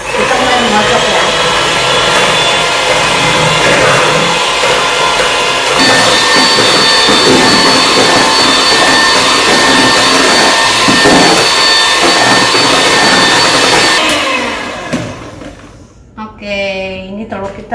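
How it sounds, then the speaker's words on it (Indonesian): An electric mixer beats eggs for brownies with a loud, steady whirring drone that holds for about fourteen seconds and then cuts off. "Oke, kita mulai mengocok ya."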